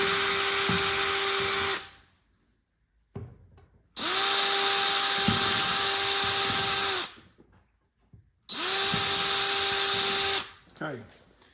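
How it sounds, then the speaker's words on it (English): A power drill bores out holes in parts of a Dolly Parton pinball machine under restoration, whining loudly in three long, steady bursts separated by short pauses. "one thing I got to do that I forgot to do is drill these out"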